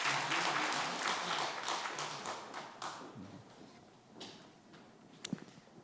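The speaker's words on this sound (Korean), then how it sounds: "박수로 축하해 주시기 바랍니다." Church congregation at a Sunday morning service applauding year-end award winners, a dense burst of clapping that tapers off over a few seconds, leaving a few scattered claps and knocks.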